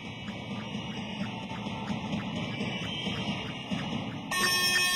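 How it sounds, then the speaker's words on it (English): At a women's basketball quarter-final between Nadezhda and Dynamo Kursk, a buzzer sounds in a steady repeating pulse over faint arena ambience, growing louder near the end of the first quarter. "there's the buzzer for the end of the first quarter"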